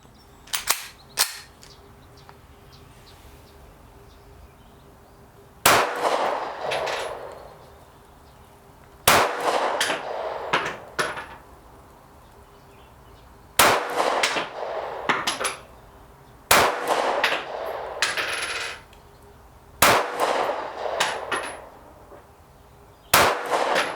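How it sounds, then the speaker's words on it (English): Loud, sharp gunshots from a Taurus G3 full-size pistol fired at a 7-yard target, seven reports spaced irregularly a few seconds apart, each with a ringing tail, and no talking. "I took 7 shots of the 7-yard target"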